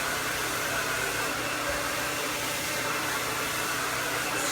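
A handheld hair dryer blows steadily and close while hair is stretch-dried in sections during a salon blow-dry lesson, a constant airy roar with no break throughout.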